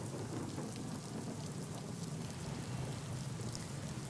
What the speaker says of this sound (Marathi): सकाळपासून पावसानं थांबायचं नाव घेतलेलं नाही आहे